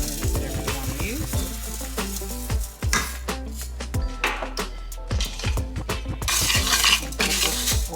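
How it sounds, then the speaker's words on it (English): Basmati rice is stirred and toasted in oil in a pot, with repeated scraping and clinking of a utensil against the metal over a light sizzle and background music. "You kind of want to toast the rice. I'm using basmati rice"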